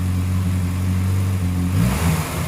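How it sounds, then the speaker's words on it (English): A Morris Minor engine idles steadily on a cold start with the choke slightly on after a carburetor rebuild, then is blipped into a single quick rev near the end, loud and close with no talking. "So I'll get a quick rev, let you hear her."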